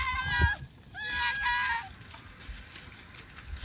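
A voice bleats twice in wavering, goat-like cries, imitating a goat, followed by a noisy rustling background.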